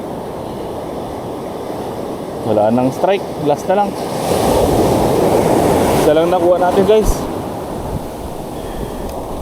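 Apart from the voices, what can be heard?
big sea waves on the shore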